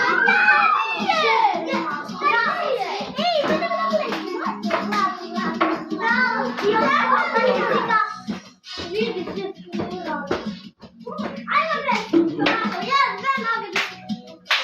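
Children clap for a classmate during a musical chairs game in a classroom, a rapid patter of small hands mixed with lively kids' chatter and shouts throughout.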